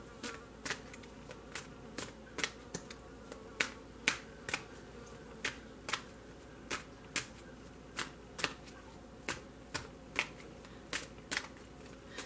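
Tarot cards being shuffled in quick, regular riffles, each burst a crisp flutter of snapping paper, repeating steadily up close with no talking.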